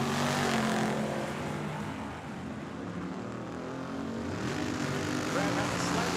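A Mustang and a Camaro drag race side by side at Tucson Dragway, a loud roaring engine rush that swells, dips and builds again under an announcer's voice.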